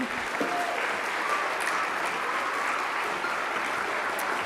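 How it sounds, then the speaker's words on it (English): An audience at a high school fall festival applauds a Sinfonia orchestra performance, a sustained even wash of clapping and cheering from a large crowd in a hall, holding steady throughout. "One more round of applause for Sinfonia"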